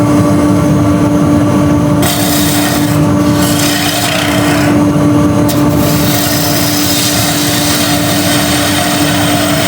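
A wood turning gouge cuts a convex curve on a spinning workpiece on a lathe, a loud steady scraping rasp over the lathe's constant motor hum, with brief dips in the cut.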